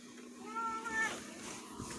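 Hershey the cat gives one drawn-out, rising meow close by in a quiet bedroom at night.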